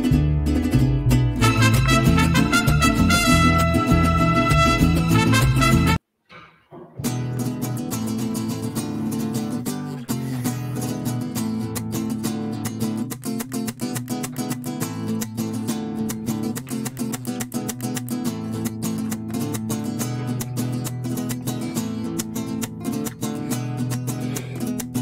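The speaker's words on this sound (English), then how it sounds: "What you're hearing right now is the vihuela." A high school mariachi group from Stockton plays with the vihuela strumming inside the full ensemble, dense and loud throughout, with a brief silent break early on before the music resumes steadily.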